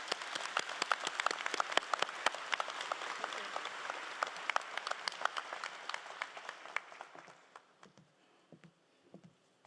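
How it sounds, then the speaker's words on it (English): Applause from the audience at a college convocation ceremony for the graduates: a broad, continuous crowd clapping that gradually fades to a few scattered claps. "I want to give you guys a round of applause for your successes"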